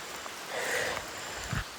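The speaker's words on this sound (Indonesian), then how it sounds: "apalagi ini kondisi hujan" Rain falls steadily on a mountain trail, a faint, soft hiss of drops that swells slightly midway, with a low thump near the end and no talk.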